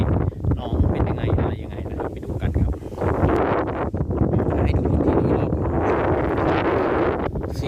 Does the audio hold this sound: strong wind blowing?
yes